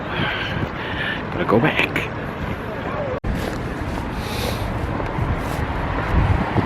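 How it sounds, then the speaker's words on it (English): Gusty wind blowing outdoors in Paris, a loud rumbling buffet across the microphone that runs throughout, with a person speaking briefly over it. "the wind is just blowing in this place"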